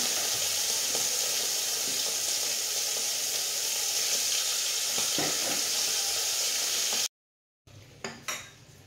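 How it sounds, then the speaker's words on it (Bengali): Bits of fish fry in hot oil, spluttering and crackling in a steady, close sizzle for about seven seconds, then a brief gap followed by a few sharp pops. "সেটাকে একটু ভেজে নিই। লুকা দিলে তো ফাটবে, কিচ্ছু করার নেই।"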